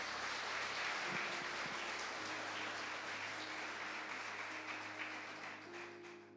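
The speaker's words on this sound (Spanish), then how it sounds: "Dele un aplauso al Señor por lo que Él hace." A church congregation applauds together in a dense, even wash of clapping that holds steady for several seconds before easing slightly, heard from a distance with a faint low hum beneath.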